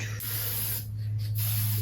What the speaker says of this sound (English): You take the lid off, spray varnish.